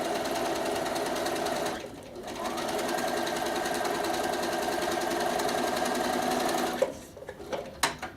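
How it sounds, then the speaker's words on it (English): Bernina sewing machine top stitching a narrow turned-over garment seam, a close, steady rapid stitching whir, briefly dipping near two seconds and stopping with a few clicks and handling sounds near the end. "I am top stitching it again"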